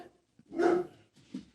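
A duck-hunting dog lets out one solid bark followed by a softer, shorter second bark, nearby and fairly quiet with no talking over it.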